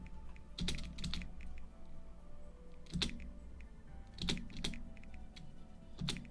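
Mechanical keyboard keys struck during a gaming session, quick bursts of sharp clacks in irregular clusters with a louder hit now and then, fairly close and unaccompanied by talk.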